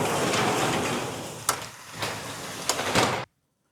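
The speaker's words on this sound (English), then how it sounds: "Get this door closed." Wind gusting 50 to 60 mph roars steadily, then a few sharp knocks and bangs as a square-body truck door is pushed shut against it, and everything goes quiet.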